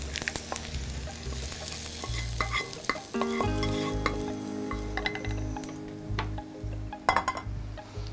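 Hot spice tempering hits a pot of bhuna khichuri, a loud steady sizzle and frying hiss with rhythmic stirring scrapes and occasional metal clinks, close and continuous with no talking.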